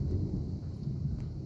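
A low, steady rumble of thunder from lightning rolls on throughout, with faint rain hiss in the background and no voices.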